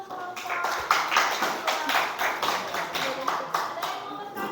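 A classroom claps in unison for a student group, producing steady rhythmic clapping that stays loud and close throughout.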